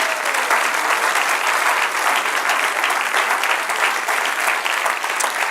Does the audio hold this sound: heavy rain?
no